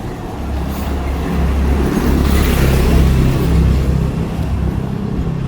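On a cobbled street in Antigua, Guatemala, a motorcycle passes, its engine noise swelling to a peak midway and then fading slowly as it moves off.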